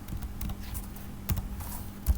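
Computer keyboard typing while entering C code: steady close-up key clicks with a few louder thumps, continuous for about two seconds and without any talk.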